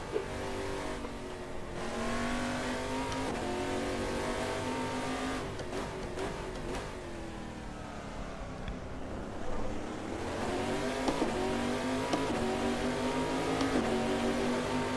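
In a VR sim racing game, a race car's engine drones and shifts pitch as it brakes for the corkscrew and then accelerates again, steady and fairly loud with no talk.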